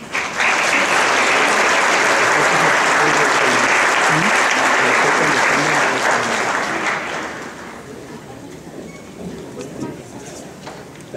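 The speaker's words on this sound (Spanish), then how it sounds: "Un aplauso para el profesor." An audience at a memorial tribute event breaks into dense, sustained applause that fills the room, then thins and fades into scattered claps and murmuring.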